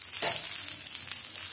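Coriander powder going into brinjal curry masala frying in a pan, a loud close sizzle that flares briefly at the start and then settles into a steady hiss with light stirring.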